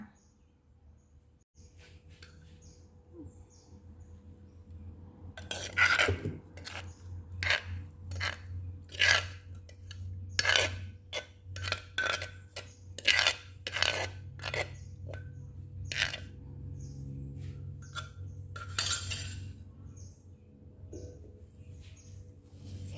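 Spicy Thai pounded cucumber salad being poured onto a plate gives a close run of sharp clicks, taps and scrapes, clustered in quick bursts over a low steady hum, with no talking.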